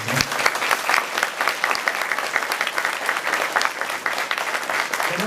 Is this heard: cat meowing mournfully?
no